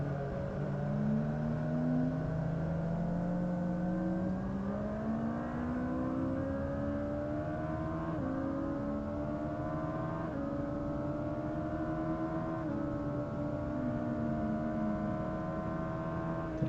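A heavy Suzuki Hayabusa motorcycle engine drones steadily while riding a race track, pitch climbing through gear changes with repeated rises and shifts, loud and close throughout with no talk.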